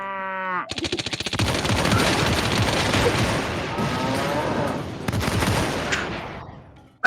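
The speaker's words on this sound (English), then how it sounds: "the Ghost Army of Problem reloads and shoots Vincent again" Sustained rapid gunfire sound effect in a role-play murder story, a dense rattling burst of automatic shots lasting several seconds, loud and close, starting abruptly after a brief tone and fading out at the end.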